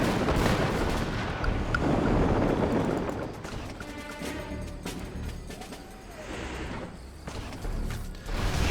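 Battle effects from the real-time strategy game Red Alert 3, with explosions in the air, tank fire and gunfire crackling in bursts, fairly dense and busy, with no voices over them.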